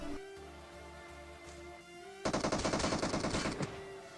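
Video game gunfire in PUBG Mobile, a rapid automatic burst of about a dozen sharp shots rattling off in quick succession after a quieter stretch of game sounds, with no talking.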